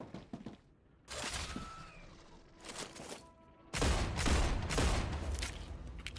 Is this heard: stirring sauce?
no